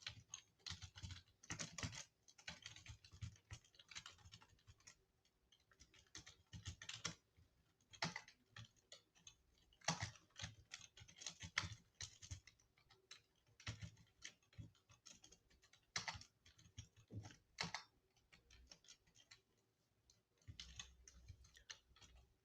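Computer keyboard typing code, quick irregular bursts of close, crisp key clicks with short pauses between words, quiet and alone.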